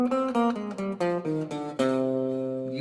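A C melodic minor scale played on a single pitched instrument, climbing then coming back down in the natural minor (Aeolian) form, as a steady run of distinct notes with the last one held and fading.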